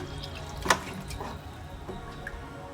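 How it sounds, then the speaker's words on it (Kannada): Water splashes into a pan of frying egg curry masala, a short close pour with a sharp splash and a few following drips over a quiet kitchen background. "ಇವಾಗ ನೀರು ಸೇರಿಸ್ಕೊಳ್ಳೋಣ. ನೀರು ಎಷ್ಟು ಬೇಕು ನೋಡಿಬಿಟ್ಟು"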